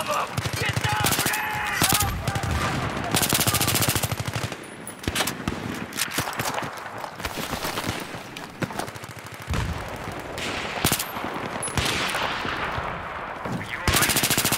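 Sustained automatic gunfire in a Battlefield 3 team deathmatch on the Canals map, dense bursts of machine gun shots rattling almost continuously over a long stretch, with brief gaps and occasional voices shouting amid the firing.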